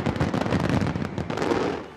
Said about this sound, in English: to London's spectacular fireworks on the Thames,